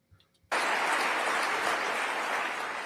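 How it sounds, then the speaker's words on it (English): A political event crowd suddenly erupts after a quiet start, producing a loud, sustained wash of applause and cheering with mixed shouts that holds steady to the end. "But the crowd gets quite loud here."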